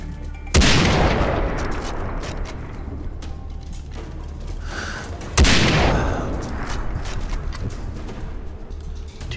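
Two heavy, booming .50 BMG sniper rifle shots in a video game, fired while hunting a jaguar at an outpost, about five seconds apart. Each blast is loud and close, followed by a long rumbling echo.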